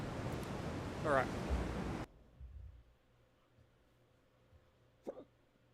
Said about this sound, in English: Now I got the hiccups.